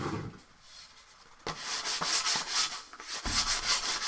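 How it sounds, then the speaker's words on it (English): Sanding a blade by hand: quick scratchy rubbing strokes, close and fairly loud, with a brief quieter pause before the strokes pick up again and continue steadily. "I just want to do a quick sand down of the blade"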